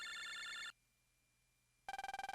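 Electronic telephone ringing in the Megaman Battle Network video game: a bright synthesized ring, a gap of near silence, then the ring returns in rapid pulsing bursts.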